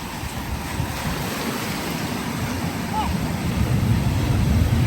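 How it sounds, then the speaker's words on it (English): Surf on Panama City Beach, with waves arriving from different directions and washing in as a steady broadband roar that builds toward the end, mixed with wind noise on the microphone. "Some of the waves here are wild."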